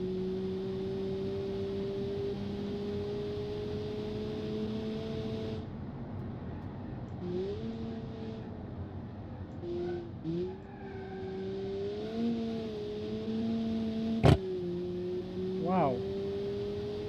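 A four-cylinder turbocharged front-wheel-drive car in the driving game Automation drones steadily, then shifts up with pitch drops and climbs again, a sharp crack near the end and short rising revs, under occasional talk.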